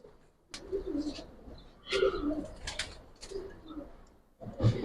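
Giribaz pigeons coo softly in several short bursts, with faint chirps and rustling between calls, close by and moderately quiet.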